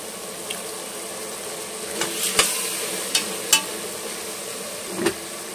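Tomatoes fry in a pan for pulao with a steady, even sizzle, broken by a few faint clicks and taps from a utensil.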